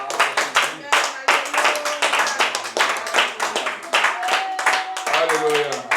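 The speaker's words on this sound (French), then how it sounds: "Je vais acclamer pour le Seigneur." Congregation clapping rhythmically at an Easter church service, steady fast hand claps continuing throughout amid voices.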